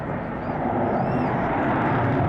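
A military jet flies overhead at the Swansea Airshow 2023, its engine a loud, steady roar throughout with no gaps.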